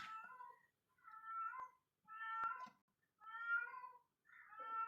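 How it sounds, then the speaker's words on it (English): A cat meows repeatedly, five drawn-out, tonal cries spaced about a second apart, fairly faint and heard alone indoors. "I think it's a cat."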